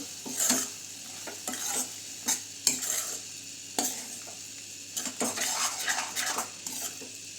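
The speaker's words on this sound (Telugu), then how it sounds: "ఇప్పుడంతా ఒకసారి మంచిగా మిక్స్ చేసేసి" Prawn curry masala stirred in a pan with a spoon, a series of irregular scraping and clinking strokes against the metal over a faint, steady sizzle, close by and with no talk.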